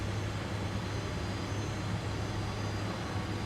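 Fokker 28 jet engines hum steadily at low thrust while the airliner taxis in a flight simulator, a constant low drone with a tonal whine underneath and no talk.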